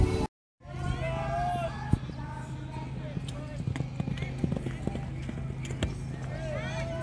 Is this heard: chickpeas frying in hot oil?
no